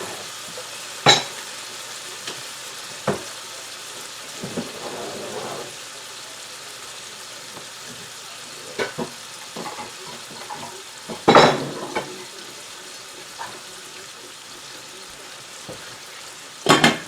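Vegetables cook covered over low heat in a pot for stuffing muffins, a soft steady sizzle broken by occasional clinks of a lid and utensils against cookware, with a few louder knocks scattered through.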